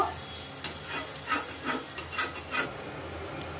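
Spinach fritters (bora) fry in hot oil with a steady, fairly quiet sizzle, broken by a few soft scrapes and stirring touches; no voices.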